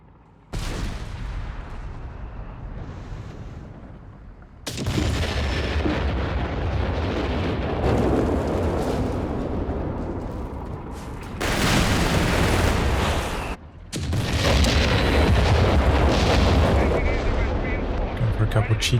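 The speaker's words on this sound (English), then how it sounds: "Cheeky Obiche barrages." Artillery barrage from Obice guns in Company of Heroes 3, a dense, continuous roar of booming blasts that swells in waves with brief gaps, loud and close throughout, with a voice talking over parts of it.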